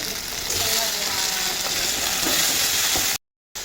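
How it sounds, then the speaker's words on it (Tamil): Tomatoes sauté in hot oil for a tomato sambar, making a steady dense sizzle with faint scrapes of stirring. The sound cuts out briefly to silence near the end, and no one talks. "தக்காளி பழத்தையும் அதிலே ஆயிலே போட்டு வதக்கிக்கோங்க."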